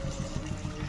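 Water is poured into a pan of cooking bathua saag greens, a short, continuous close trickle and splash heard on its own.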